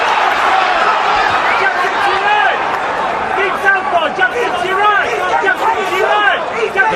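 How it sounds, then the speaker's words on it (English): Crowd noise in a boxing arena during a professional bout, a dense continuous roar of cheering and shouting with a ringside commentator talking over it. "The crowd nervous, but loving the action."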